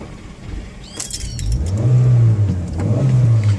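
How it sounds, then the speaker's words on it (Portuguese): A 2015 Chery Celer 1.5 Flex engine cranks and catches, then revs up to a loud, rising rumble that holds steady, close by. "Eu vou ligar o carro aqui"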